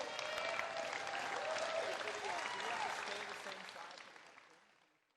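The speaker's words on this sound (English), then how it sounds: "so you got a standing ovation on that shot" A pickleball crowd on a championship court gives a standing ovation: dense, sustained applause with cheering voices that gradually fades over a few seconds.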